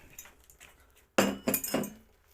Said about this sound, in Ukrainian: беремо трьохлітровий бутильок